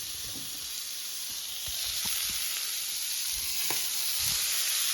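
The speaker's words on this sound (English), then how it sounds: "Let that sizzle away on its own while we prepare the gravy." A steak sizzles in a frying pan, a loud continuous close hiss with small crackles and the odd soft clink, the frying intensifying slightly as it goes.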